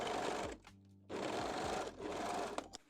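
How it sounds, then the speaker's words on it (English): A sewing machine stitches the crotch seam of a lace thong in two close, steady bursts of rapid whirring, separated by a brief pause with a faint motor hum. "And sew the crotch seam."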